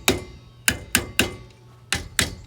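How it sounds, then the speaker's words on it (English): Six sharp metallic hammer taps on an RV trailer wheel hub cap, close and crisp, struck singly in an uneven rhythm with short ringing decays and no voices. "so you just take your hammer or something and don't hit it too hard because you'll bend it"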